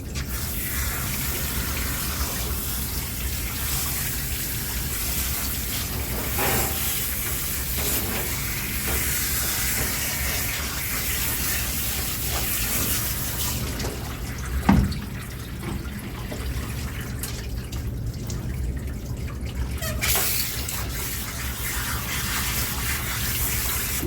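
Running water and spray rinse soap out of a dog's coat during a bath, a steady broadband hiss working from the top down, with a brief louder splash midway.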